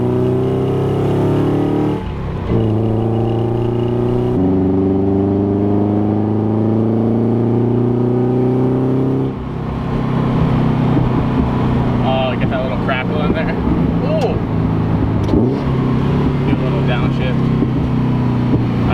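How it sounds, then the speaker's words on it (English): Subaru-engined Mazda Miata revving hard with its exhaust popping and crackling, a loud close engine note rising in steady pulls, with a voice talking over it and a belt noise in the mix. "You guys can hear those crackles."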